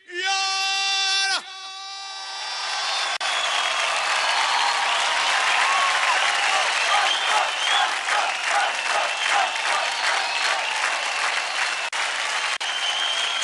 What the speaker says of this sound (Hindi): जोरदार तालियां सनम के लिए